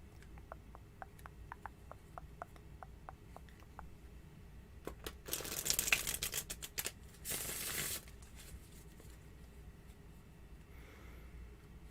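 Playing cards are shuffled in a quiet room, with a run of soft ticking riffles followed by louder bursts of riffling and card rustle near the microphone.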